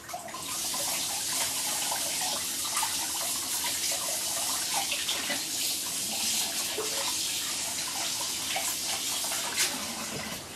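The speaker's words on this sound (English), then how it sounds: "Right, so I'll just rinse that off." A soap-making jug is rinsed under a running tap, giving a steady, close splashing gush of water that continues alone throughout.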